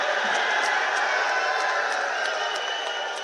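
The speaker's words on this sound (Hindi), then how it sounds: "ताली बजाओ सभी लोग" A crowd at a political rally in Nasirabad, Ajmer claps steadily, a dense, continuous roar of applause heard loud and close throughout, with a few sharp individual claps standing out.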